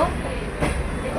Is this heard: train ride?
yes